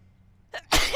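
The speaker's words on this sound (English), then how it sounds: "I'm gonna sneeze." A woman's single sudden sneeze during a prenatal yoga class, preceded by a short inhaled catch, loud and close in an otherwise quiet room.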